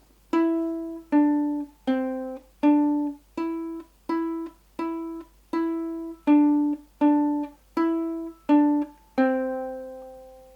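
Ukulele picks out the second half of Mary Had a Little Lamb, about fourteen clear plucked notes in a steady even rhythm, each ringing briefly, close and alone with the last note held longer.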